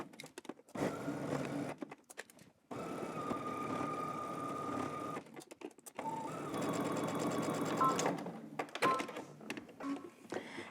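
A sewing machine stitches a pants seam at a 5/8-inch allowance, running in a few sustained whirring bursts broken by brief stops, loud and close with no talking.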